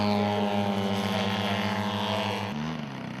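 A radial-engine aerobatic aircraft performs at the Serpentine Air Race in Victoria, its loud, steady droning engine pulsing rhythmically, then shifting pitch as it maneuvers near the end.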